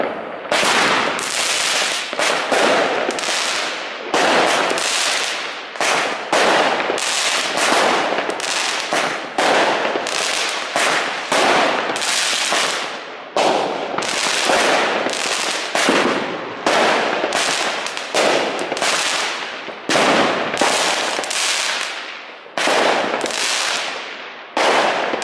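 Dense New Year's Eve fireworks and firecrackers, loud sharp bangs bursting in rapid, irregular clusters for the whole stretch, some volleys crackling almost continuously, with no talking.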